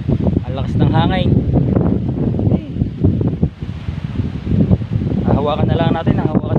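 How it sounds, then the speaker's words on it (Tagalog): Strong wind during heavy rain gusts and roars steadily at close range, buffeting the microphone and rattling a roof, with loud talking throughout. "ang lakas ng hangin"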